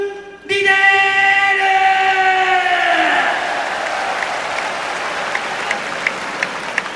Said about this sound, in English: I wonder who's clapping amongst the 3 of us there.